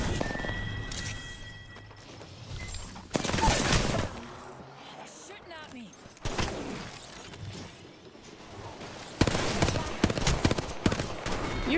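Bursts of rapid gunfire from the Apex Legends video game crackle in several loud, dense stretches, interspersed with quieter game noise and muffled effects, the shooting continuing in uneven volleys across the clip.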